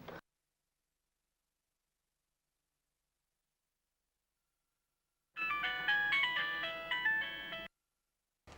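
A mobile phone ringtone plays a bright melodic tune for about two seconds after a long stretch of silence, then cuts off abruptly.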